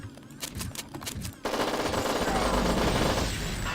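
An NP7 gun in a video game fires a few separate sharp shots, then breaks into a loud, sustained rapid-fire burst that continues to the end.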